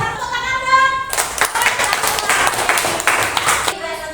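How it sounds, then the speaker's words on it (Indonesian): Children in a classroom break into applause, a dense roomful of hand claps lasting about two and a half seconds, loud and close, with a speaking voice just before it and again as it ends. "Tepuk tangan dong."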